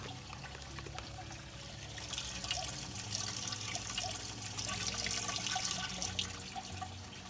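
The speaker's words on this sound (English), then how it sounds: "he is getting a water sample, pouring a little out because he doesn't need that much" Water poured out of a sample container during a Lettuce Grow Farmstand indoor garden setup, a steady trickling pour with faint clinks, close and moderately quiet, with no talking.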